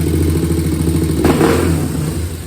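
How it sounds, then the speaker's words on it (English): A 2001 Honda TRX400 ATV engine idles close by with a steady, even low putter that stays loud throughout, a brief rise in texture midway but no real revving. "Y'all see the bike sound nice and healthy. Got a nice idle on it."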